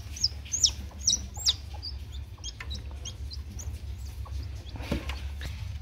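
A hen clucks and chirps repeatedly at close range, a busy run of short calls with no one talking, while a rooster sits on a nearby perch.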